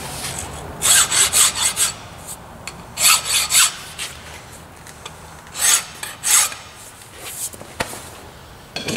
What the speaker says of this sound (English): so we'll just take our burrs off again